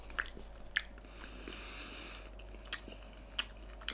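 A toothless man chews HK pizza topped with American bacon and Palermo pepperoni, giving soft wet mastication with a few sharp crunchy bites spaced through the stretch, close to the mic and without talk.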